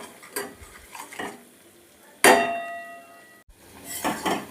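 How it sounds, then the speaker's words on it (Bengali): A spoon scrapes and clanks in a pan, stirring salted cauliflower curry masala with cashew paste over a soft frying sizzle, with a few scattered strokes, one sharp ringing knock in the middle, then more stirring. "নুন দিয়ে ভালো করে নেড়ে নেব।"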